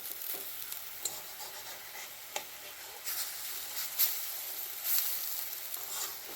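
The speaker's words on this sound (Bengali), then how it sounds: "ঠিক লাল লালভাবে বড়াগুলো ভেজে নেবেন" Bengali bora fritters frying in hot oil give off a steady, close sizzle, with occasional sharp pops and soft stirring bursts rising above the bubbling.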